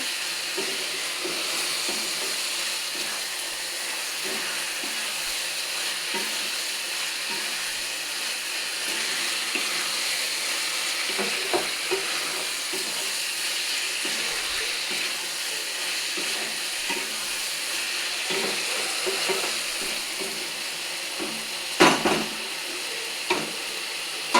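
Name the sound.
fried pointed gourd (potol) stirred with spices in a frying pan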